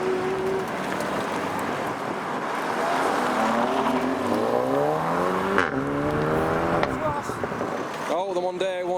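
Supercars leave a car show, one accelerating hard down the road with rising engine harmonics and a loud rev climb that fades, over steady traffic roar and chatter from onlookers.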